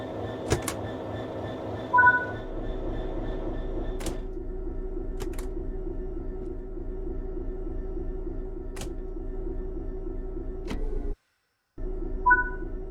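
Cab ambience of a Class 66 diesel freight locomotive in Train Sim World 3: a steady low engine rumble runs throughout, broken by sharp control clicks and a pair of short two-tone alert beeps, with a brief dropout near the end.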